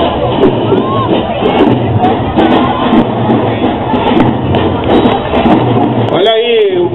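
A loud, dense crowd at a parade for the 52nd anniversary of Paulo Afonso, Bahia, roars and cheers continuously, with applause and shouting blending into a steady wash of noise.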